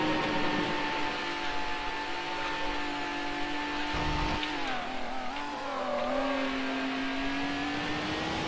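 A race car in Need for Speed Hot Pursuit 2 drones at a steady, high engine pitch, then dips and climbs again as it revs through a shift, close and constant with no talking.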